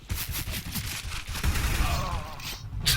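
Rapid AK rifle fire in a video game crackles in quick repeated bursts, sharp close shots rattling in rhythm with brief pauses and a final burst at the end.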